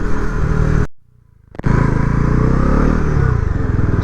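A stock-exhaust Bajaj Pulsar NS400 motorcycle revs hard and close, its loud engine roar cutting out briefly for about half a second before surging back into a sustained high-rpm drone.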